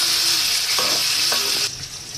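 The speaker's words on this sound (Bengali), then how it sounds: "মাছগুলো এবার ঢেলে দিই," Fish pieces dropped into hot oil to fry lightly, a loud bright sizzle with a couple of stirring clatters, easing off slightly near the end.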